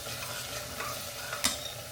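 Vegetables for street-style pav bhaji fry with pav bhaji masala in a pan, giving a soft continuous sizzle with one sharp utensil clink against the metal.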